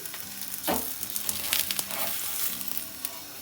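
Onion paratha fries in oil on a flat pan, giving a steady close sizzle with crackling bursts and a brief louder flare just under a second in.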